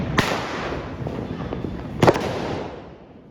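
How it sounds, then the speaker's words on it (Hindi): Sky shot fireworks burst over rooftops in Noida on Diwali night, two sharp close cracks standing out above a continuous crackle and rumble of distant firecrackers. "sky shot,"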